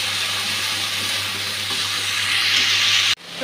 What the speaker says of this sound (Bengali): একটু হলুদ আর অল্প নুন দিয়ে ভেজে নিচ্ছি।